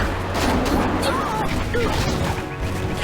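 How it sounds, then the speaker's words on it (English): Cannon fire in the Jade Empire video game makes a dense, continuous barrage of loud crashing blasts and impacts, with a voice shouting over the din. "Cannon fire! Look out!"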